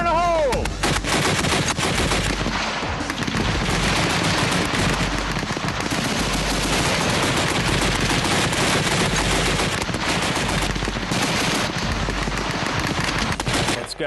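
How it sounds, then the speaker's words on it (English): A .50 caliber machine gun fires long, continuous bursts at a car target, loud and sustained throughout with dense rapid reports and little pause. "The 50 caliber is going to chop it into scrap metal."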